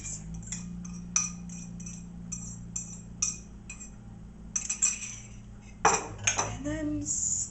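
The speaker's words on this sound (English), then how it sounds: "go ahead and dump the eggs into the cake mix" Eggs dumped from a container into cake mix in a mixing bowl: a run of light clinks and taps, then a louder wet slop and bowl knocks near the end.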